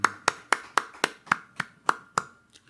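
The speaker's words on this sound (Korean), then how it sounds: "우리 하나님께 영광의 박수 돌리겠습니다." Rhythmic, evenly spaced claps, about nine sharp strikes in a steady beat, close and clear, tapering off at the end, as a church congregation claps during Sunday worship.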